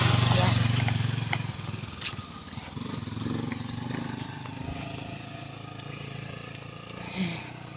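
A motorcycle passes behind someone walking outdoors, its engine rumble loud at first and then fading away, followed by quieter ambient street noise and a faint voice.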